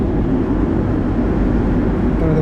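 An old tram in Belgrade, Serbia rolls across a major bridge, heard from inside the car as a loud, continuous low rumble and rattle of the ride with no talking.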